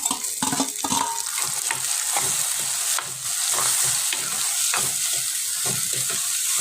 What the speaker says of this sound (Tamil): வெங்காயம் நல்லா வதங்கிச்சு தக்காளி போட்டுக்கலாம்